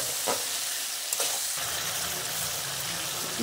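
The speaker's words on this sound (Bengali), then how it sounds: "এবার এটাকে ভালো করে ভাজতে দেবো।" Prawns frying in a pan with turmeric, cumin and coriander powder, giving a dense, continuous sizzle with a few brief stirring scrapes, close and steady with no voices.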